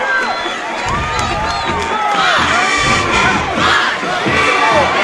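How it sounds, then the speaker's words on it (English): A loud crowd cheers and shouts at a high school football game, with whoops and yells rising in waves over continuous clapping, sustained throughout. "And a nice round of applause."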